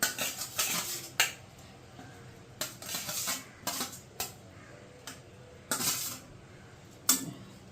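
Fried fish pieces are added one by one to boiling curry, with a string of sharp metallic utensil clinks against a pan coming in separate bursts, fairly close, and no talking.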